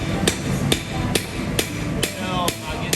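Blacksmith's hammer forging a blade and drawing out its edge, sharp ringing blows on hot steel over an anvil at a steady pace of roughly two per second, close and loud.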